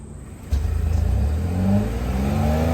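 A 2024 Ford F-150 XLT with its 3.5-liter hybrid V6 is revved once, jumping from a low idle into a loud, sustained, rising engine roar that holds near and steady with no talking.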